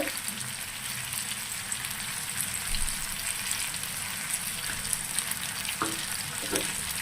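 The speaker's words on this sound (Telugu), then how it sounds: "ఈ మామిడికాయ అన్నది మగ్గనిద్దాము, మంచిగా ఏగుతూ ఉంటుంది నూనెలో" Raw mango pieces with turmeric and salt frying in oil for pulihora, a loud, steady sizzle with brief stirring clinks and scrapes, no talk over it.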